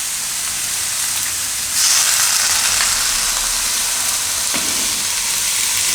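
Spinach drops into a pan while palak makkai khichdi cooks. A gentle frying hiss jumps into a loud, steady sizzle that carries on with a few soft scraping taps.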